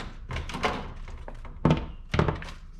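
The housing of a Polisport Halo LED headlight for a 2019 Yamaha YZ450FX dirt bike is handled and pried open, giving a run of plastic clicks and knocks followed by two firmer thunks.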